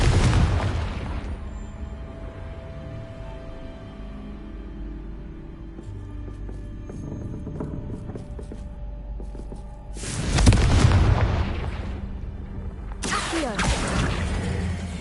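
Confringo fire spell blasts in Hogwarts Legacy, with a loud burst at about ten seconds and another near thirteen seconds over a steady low rumble of game ambience.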